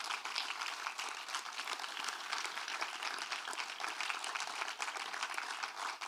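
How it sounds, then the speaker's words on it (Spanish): An audience at a talk gives sustained applause, quiet and steady with dense overlapping claps heard from a distance, with no speech over it. "Un aplauso para todos ellos."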